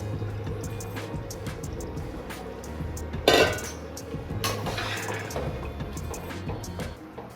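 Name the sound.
stirring washed jeera samba rice into pot for biryani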